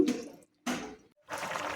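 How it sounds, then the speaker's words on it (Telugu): Water being poured into a pan of drumstick curry in three short splashing bursts separated by brief silences, close and fairly loud. "మగ్గాక ఇలా వాటర్ వేసుకోవాలి"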